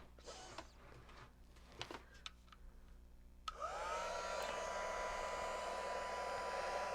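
A heat tool for melting embossing powder starts with a click partway through and then blows a steady, even whoosh until the end, after a few faint handling taps and rustles.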